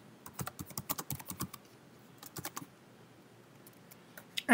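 Keys clack on a computer keyboard as code is typed, with quick bursts of close, crisp strokes, a pause, then a few more taps near the end.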